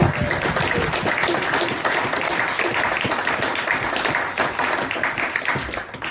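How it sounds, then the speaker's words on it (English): A crowd claps for a theatre company at an anniversary celebration, loud, dense and continuous applause from many people that carries on without a break, sounding close and full. "So a round of applause to all the Banner Theatre people."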